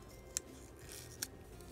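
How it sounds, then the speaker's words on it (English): Scissors cutting out a small paper envelope form, two quick, crisp snips spaced apart against a quiet room background. "I'm just gonna go ahead and cut out the envelope form, cut out the little indentations."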